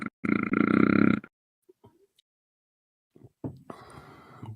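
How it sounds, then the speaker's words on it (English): A single loud, drawn-out burp, close by, followed by silence and a few faint rustles and soft sounds. "That was a burp or a growl."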